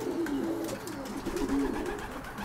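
Pigeons in a loft cooing in several overlapping low, rolling phrases, near and moderately loud against a hum of background noise.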